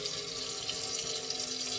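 Tap water streams steadily through gauze over sprouted seeds, giving a close, continuous hiss and splash that stays even for under two seconds, no voices.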